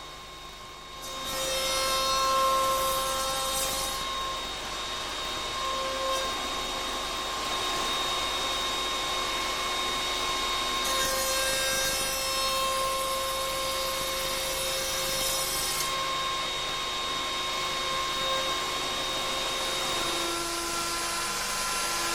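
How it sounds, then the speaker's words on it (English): A router fitted with a tenoning attachment and a straight two-flute cutter machines tenons in wood, giving a loud, steady high-pitched whine with cutting noise that rises and falls over about twenty seconds. "With this device, tenons can be cut using a straight two-flute cutter."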